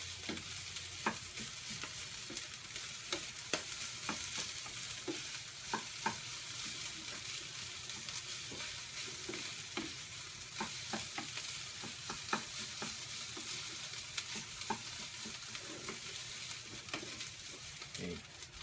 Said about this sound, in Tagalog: haluin ng bahagya hanggang sa magsama-sama